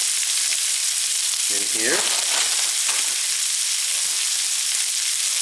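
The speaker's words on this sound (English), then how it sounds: "I'm going to saute the cabbage just until it wilts and colors slightly" Green and red cabbage with carrots sauté in a skillet, giving a loud, even, close-up sizzle throughout, with a brief spoken voice early on.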